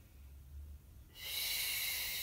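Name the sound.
breathing during a Pilates abdominal exercise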